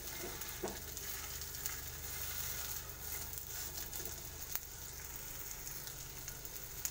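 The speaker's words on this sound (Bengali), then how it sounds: "এভাবে করে আমি রুটিগুলো ভেজে নেব।" A roti fries in a little oil spread across a pan, giving a soft, steady sizzle with faint crackles and a few light ticks and no voices.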